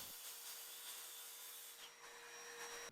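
A steady, buzzing saw cuts continuously through wood, a bright whining roar that runs without pause and dips only slightly near the end.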